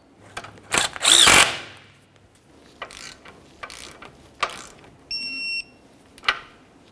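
Tightening a tie rod end nut on a 2012-2018 Nissan Altima gives short bursts of ratcheting tool clicks and brief mechanical whirs, spaced by pauses, with a faint electronic beep partway through.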